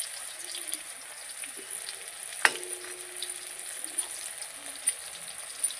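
Food frying in a kadai wok gives a steady, moderate sizzle throughout, with one sharp metallic clink partway through and a few small clicks, and no one speaks.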